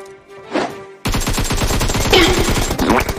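Automatic rifle fire from the mobile battle-royale game Game for Peace (PUBG Mobile) rattles in a rapid, loud, sustained burst after a brief quieter tonal passage, with heavier shot clusters toward the end.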